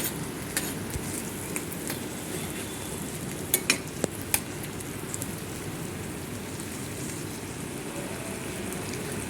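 Potato pieces for aloo fry frying over a low flame, heard as a steady, dense sizzle throughout with a few sharp crackles and pops near the middle, close and fairly loud with no talking.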